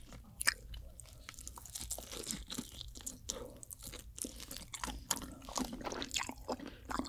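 A giant rock oyster being eaten close to the microphone, giving continuous wet crunching, biting and squishy chewing sounds with no talking.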